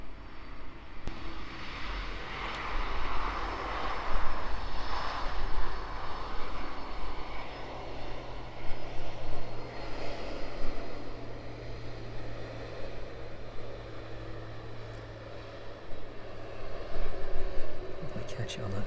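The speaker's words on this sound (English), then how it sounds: "767 then, arriving in with us" A Boeing 767 airliner arrives to land at East Midlands Airport in wet weather, its engines a moderate, distant rumble rising and falling over steady rain-like hiss, with talk over it.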